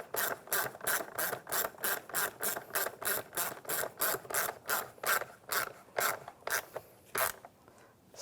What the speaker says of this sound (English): And tighten down the worm clamp.